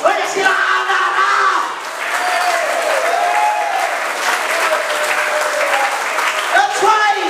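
A church youth crowd shouting and clapping together, a loud, sustained roar of voices and hand claps close by, with yelling rising and falling throughout.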